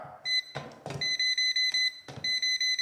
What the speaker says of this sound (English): So I turn the beeper on.